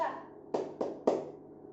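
Group clapping chant at a family-skills meeting, with three sharp rhythmic clap bursts spaced evenly over a low murmur of voices, fairly faint and roomy.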